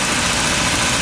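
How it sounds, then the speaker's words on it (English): A 1988 Honda Accord engine idles steadily with a smooth, even running drone and faint mechanical vibration, close and continuous with no talking. "the engine's sitting here running strong and smooth"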